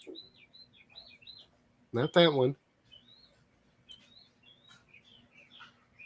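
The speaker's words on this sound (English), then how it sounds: "I hear the birds." Small birds chirp and tweet outdoors in short scattered high calls, fairly faint, with a burst of nearby conversation cutting in briefly partway through.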